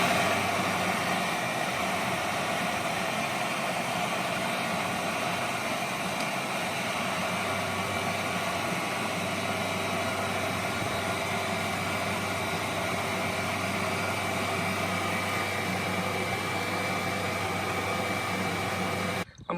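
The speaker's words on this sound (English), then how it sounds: "Start the car up, blow the heater to hot and maximum, and then we will let it run" Steady broadband whir of a car engine idling with the heater fan blowing on hot at maximum, a constant close hum and rush that holds unchanged for the full span before cutting off abruptly at the end.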